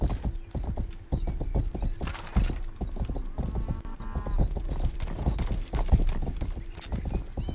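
Horse hooves clip-clop in a steady trotting rhythm throughout in the video game Rustler, the close, sharp footfalls running continuously with a faint whinny and ambient game sounds.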